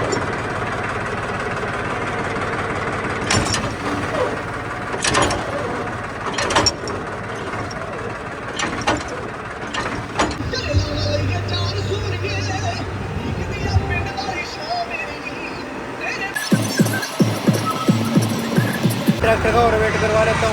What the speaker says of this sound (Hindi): उठा देते हैं डंपर को। ये उठ रहा है अपना डंपर।